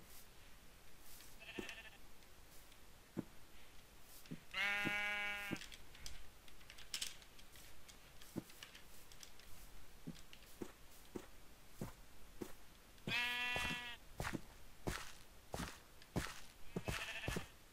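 Two clear bleats from a white sheep in a video game, a long wavering baa near the start and another later, over steady clicking like keys being tapped.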